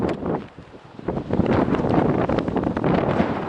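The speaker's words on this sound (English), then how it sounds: "I don't know if you can hear me because of the wind." Wind buffeting a microphone on a Pacific Crest Trail hike in 2016: a continuous loud rumbling roar with gusty swells and crackly rushing, close and unbroken across the whole stretch, with no voices.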